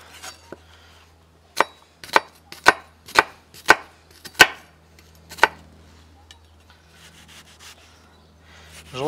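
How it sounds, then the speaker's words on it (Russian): A knife finely chopping onion for homemade grilled sausages sounds as about eight sharp, close board strikes in a quick run, then a pause and a few faint scrapes. "Режем мелко лук."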